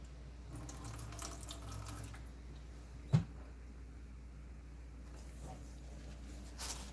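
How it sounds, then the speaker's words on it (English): Running tap water rinsing a Mora knife blade at a sink: a continuous, even splash and hiss throughout, with one brief knock partway through and no speech. "I'm going to rinse that off real quick so it doesn't keep doing it, so it stops the reaction"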